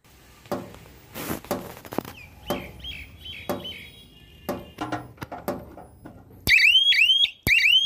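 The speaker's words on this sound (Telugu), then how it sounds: "అలారం పనిచేస్తుంది." A solar fencing system's alarm sounds in rising, chirping siren sweeps that start near the end, preceded by a series of sharp clicks and knocks as the unit is switched on.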